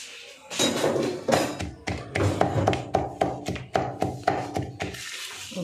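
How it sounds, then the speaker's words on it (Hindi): Garlic and ginger pounded by hand, a series of sharp, evenly spaced thuds close up, about a dozen strikes in a steady rhythm, with a few softer knocks at the start. "लहसुन अदरक कूटेंगे"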